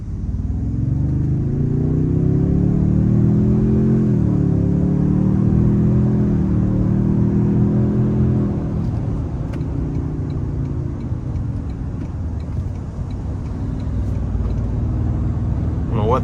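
A 2025 Toyota Tundra Platinum pickup with the 3.4-litre twin-turbo V6 accelerates hard from inside the cab, a loud, steady engine drone rising in pitch for about eight seconds before settling into road rumble as the pull eases.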